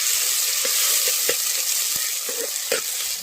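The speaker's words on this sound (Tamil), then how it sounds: "வெங்காயம் போட்டுக்கணும், நல்லா கிண்டிக்கலாம்." Onions sizzle loudly in hot oil in a pan for a chicken curry, the steady hiss broken by several scraping, clacking strokes of a spoon stirring them, with no voices.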